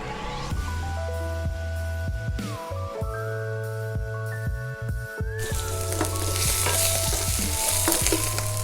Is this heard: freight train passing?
no